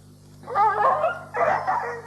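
Hounds give two quick rounds of yelping barks and whines, close and fairly loud against a faint steady hum, with no talking.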